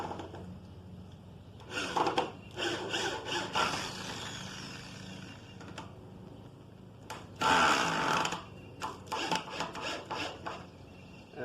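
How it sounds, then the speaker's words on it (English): Screws driven into pre-drilled wood of a raised garden bed, a drill whirring and grinding in two close bursts of several seconds each, separated by a quieter pause. "now it's just as easy as screwing these in"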